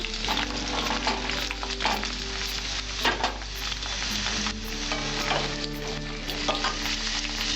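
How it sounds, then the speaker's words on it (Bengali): Eggplant and raw green banana frying together in hot oil in a wok for a Bengali shukto, giving a dense continuous sizzle broken by scraping stirs and occasional louder spatters, close up and without speech. "সব সবজিগুলো আমি আলাদা আলাদাভাবে ভেজে নিচ্ছি তাহলে টেস্টি বেশি হবে"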